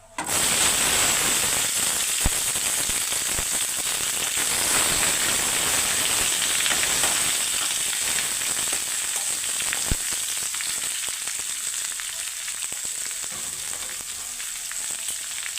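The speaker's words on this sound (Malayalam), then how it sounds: "ഞാൻ രണ്ട് ഉരുളക്കിഴങ്ങും ഒരു മൂന്ന് സവാളയും അരിഞ്ഞു വെച്ചിട്ടുണ്ട് നമുക്കതിലിട്ട് കൊടുക്കാം" Chopped potatoes and onions drop into a hot pan for a Kerala sadhya koottukari and fry with a loud, dense, continuous crackling sizzle close up, easing slightly toward the end, with no voices.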